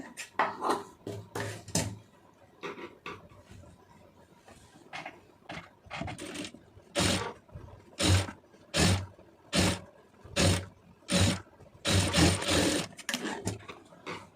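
A sewing machine stitching folded blouse fabric, a series of short whirring bursts that start and stop, quickening into a steady rhythmic run near the end, with a voice talking in between.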